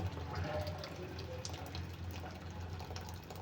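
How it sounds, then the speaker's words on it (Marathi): Hot water from a kettle is poured into a cooking pot of rice, making a steady close splashing gurgle for a few seconds. "तर इथे पाणी घालून घेते"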